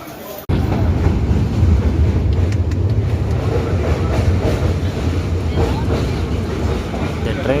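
Ooty toy train on the Mettupalayam to Ooty line, a steady rumbling ride with faint clacking, heard from on board, loud and continuous after a brief quiet start.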